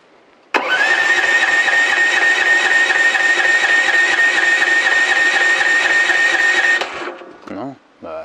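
The small engine of a Mygale 500 micro excavator cranks and catches, then runs steadily and loudly for about six seconds before stopping, followed by a few brief clunks.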